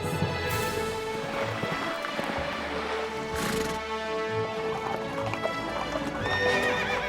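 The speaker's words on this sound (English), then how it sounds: "The Chincoteague Ponies." Wild Chincoteague ponies neigh loudly while hooves clop in an uneven rhythm, with several whinnies rising over the steady trotting, heard up close with no talking.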